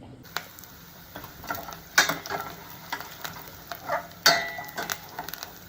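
Tempering for pappu charu sizzles quietly in a pan while a spoon stirs and scrapes, with several sharp metallic clinks and knocks standing out over the low frying hiss.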